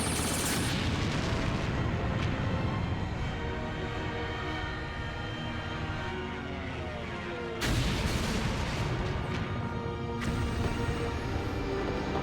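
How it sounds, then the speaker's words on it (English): Continuous heavy booming and rumbling like volleyed cannon fire, loud and dense, with a sharp fresh blast partway through. "Fire the cannons."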